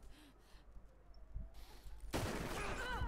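Gunfire in the Red Dead Redemption 2 video game, quiet ambience first and then a sudden loud burst of shots that rings on to the end.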